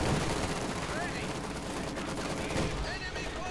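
Dense gunfire from German Jäger infantry in the Company of Heroes 2 strategy game, with sustained rifle and automatic bursts over a constant battle bed and game effects, while a commentator talks over it.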